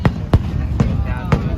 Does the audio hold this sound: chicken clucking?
no